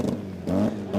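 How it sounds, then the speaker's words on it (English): The CQ Rotary RX2 drag car's rotary engine revs at a drag strip in short, loud, choppy bursts, with a rough buzzing roar surging and dropping twice in quick succession. "The CQ Rotary RX2. It's loud, it's angry."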